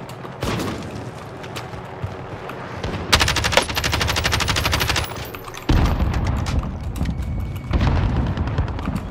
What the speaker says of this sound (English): Give him some warning shots.